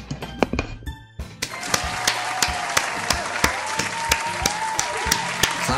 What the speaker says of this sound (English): Clap it up for Sayori